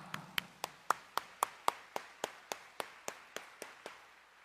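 Hand claps from a church congregation during a Catholic homily, a steady even beat of about seventeen crisp claps in unison, fairly quiet and with no talking.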